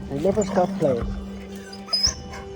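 Puppies in Thailand whimper and yip in short high whines while playing, close and brief, with a voice speaking briefly partway through.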